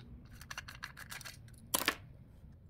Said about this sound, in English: You need a Phillips 0 screwdriver, then you just unscrew it